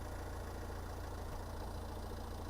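A 2017 Nissan Qashqai with a 1.5 diesel engine idles outdoors, giving a steady, even low rumble with a faint knocking texture, constant and moderately quiet, with no talking.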